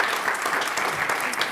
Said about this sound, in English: Let's give them a big round of applause for